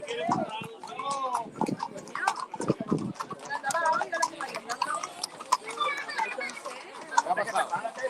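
Hooves of a horse pulling a large twelve-seat carriage clip-clop steadily through a religious procession returning a Virgin image to a hermitage, with crowd chatter and voices around.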